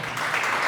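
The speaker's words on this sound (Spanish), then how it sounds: "Denle un aplauso a Dios por eso." Congregation applause during a church sermon, a brief dense burst of many people clapping together, steady and fairly loud with no talk on top.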